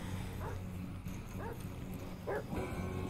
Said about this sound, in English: You hear our dog barking.